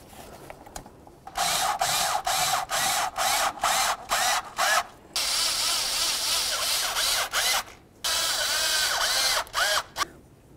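A power tool drives in mounting bolts on a 2007-2017 Ford Expedition engine, sounding as a series of loud, close whirring bursts with short pauses between them and no talking.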